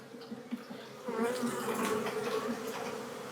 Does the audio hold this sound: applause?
no